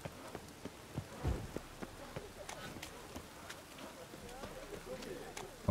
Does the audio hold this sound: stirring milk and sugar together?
no